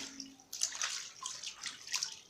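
Water splashes and pours as hands are rinsed after hypochlorite, in uneven close bursts of running water and sloshing, with no voices.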